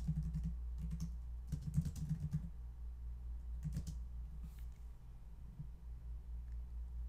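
Computer keyboard being typed on and clicked, with short bursts of quiet key taps separated by pauses over a low steady hum, and no voices.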